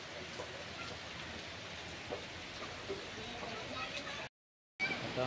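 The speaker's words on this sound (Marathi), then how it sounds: "पावसाने पण आता आगमन केलेलं आहे" Steady rain falling at a farmhouse in Karjat, a soft even hiss of drops close by with faint scattered patters, briefly cut to silence near the end before resuming.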